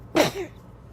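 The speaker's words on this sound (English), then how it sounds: "You've got the cutest little sneeze." A single short, bright sneeze from a woman, close and clear, followed by a faint, breathy tail and quiet room tone.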